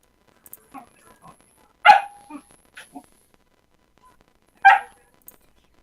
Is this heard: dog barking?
yes